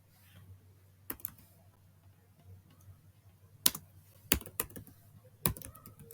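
Keys clacking on a computer keyboard while an SQL command to create a database is entered, a few sparse, sharp isolated keystrokes spread over several seconds against a quiet low hum.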